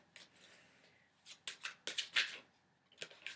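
Close, crisp riffling and flapping of a deck of tarot cards being shuffled, in several quick bursts with brief pauses between.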